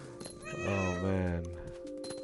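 A single drawn-out cat meow in the video game What Remains of Edith Finch rises and falls over about a second, clear and close, with faint background noise around it.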